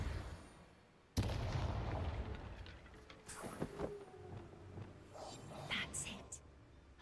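A Depulso spell cast in Hogwarts Legacy, a sudden loud blast followed by a rumbling, crackling magical burst that fades over several seconds amid scattered impact sounds, with speech over it.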